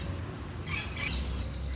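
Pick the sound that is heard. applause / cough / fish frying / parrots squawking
parrots squawking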